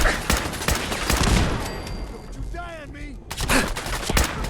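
Rapid gunfire crackles in Fallout 4, with repeated close sharp shots in bursts over game effects and a voice speaking briefly in the middle.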